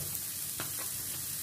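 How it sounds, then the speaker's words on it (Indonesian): Vegetables stir-fry in oil in a pan, wilting as they cook, with a short, even sizzle and a couple of soft stirring scrapes up close. "Kasih lagi minyak. Tumis sampai sedikit layu."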